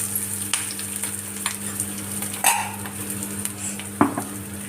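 Aromatics sautéing in a pan for a coconut-milk fish curry, a steady sizzle with a utensil scraping and clinking against the pan, one sharper clatter partway through and another near the end.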